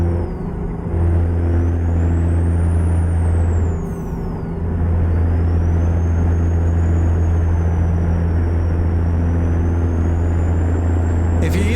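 HCT Viper truck from American Truck Simulator cruising on the road, a loud steady engine drone with deep tonal hum, a brief dip partway through and a faint rising whine above.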